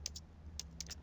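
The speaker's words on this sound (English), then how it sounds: "So press keys on the keyboard to type" Keys tapped on a computer keyboard in a handful of quick, light clicks, some spaced and some bunched, over a steady low hum.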